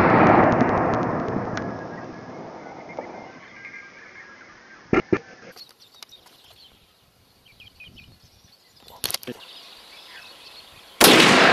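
Rifle fire while hunting sambar deer outdoors in New Zealand: sharp, loud, isolated bangs cut through quiet bush ambience and faint birdsong, one midway and another near the end, with low murmured talk early on.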